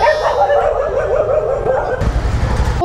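Several street dogs bark close by in brief, loud yelps, mixed with a person's excited voice and laughter.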